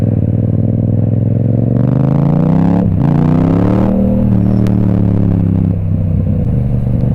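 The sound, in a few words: Yamaha MT-07 motorcycle passing on road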